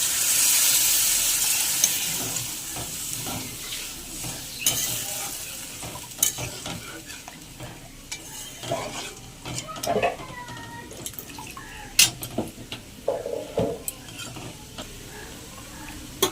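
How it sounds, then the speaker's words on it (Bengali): A little water poured into sizzling fried spice masala for a chicken kofta curry, a burst of hissing steam that settles into bubbling sizzle with repeated spoon scrapes and clinks while stirring. "মশলা হয়ে গেছে তেল ছেড়ে দিয়েছে অল্প জল দেবো"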